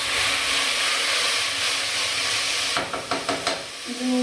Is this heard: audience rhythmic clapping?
no